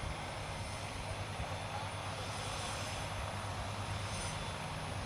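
A P-47 Thunderbolt fighter plane passes low at an airshow, its piston engine giving a loud, steady propeller drone that holds strong from start to finish without a break.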